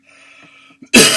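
A single harsh cough from an adult man, preceded by a faint throat sound, bursts out loud and close after a quiet moment.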